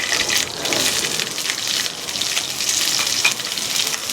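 Onion and green chili frying in a pan after dried red chili and five-spice tempering, a loud, close, continuous crackling sizzle with faint stirring beneath, no voices.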